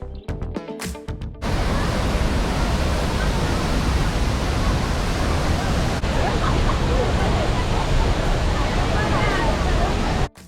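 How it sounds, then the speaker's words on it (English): La Fortuna Waterfall in the Costa Rican jungle, dropping 250 feet into a pool, roars as a loud, steady broadband rush that fills the scene after a brief clatter at the start. "Dropping 250 feet into a bright blue pool, this waterfall paints a perfect postcard of the Costa Rican jungle."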